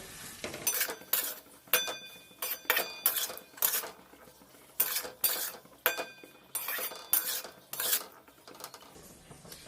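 A metal spoon stirs spiced ingredients, including ground black pepper, together in a bowl, making repeated clinking scrapes in an uneven rhythm, close and crisp with no talking.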